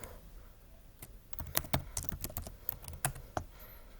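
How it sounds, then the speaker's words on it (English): Rapid, irregular typing on a computer keyboard, close and fairly loud, with bursts of sharp key clicks and a few heavier strokes, no voices. "Let me type it right quick"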